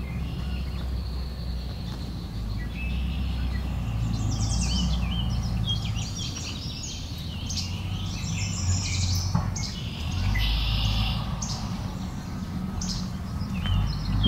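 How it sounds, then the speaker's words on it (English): Red-winged blackbirds squabble outdoors, their chirps and buzzy calls repeating in bursts over a steady low background rumble, fairly distant and moderately faint. "Some red-winged blackbirds having an argument here."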